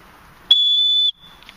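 A loud, shrill whistle blast from the whistle on a Light My Fire Scout fire starter kit holds one steady high pitch for just over half a second, alone against quiet background noise.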